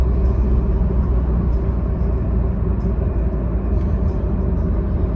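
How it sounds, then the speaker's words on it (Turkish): A Peugeot 301 1.6 BlueHDi diesel with a stage 2 chip tune easing off and slowing in a tunnel, a loud, steady low rumble of engine and road noise filling the enclosed space. "Arabayı biraz yavaşlatacağım."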